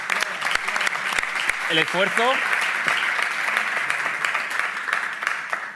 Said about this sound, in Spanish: Porque un fuerte aplauso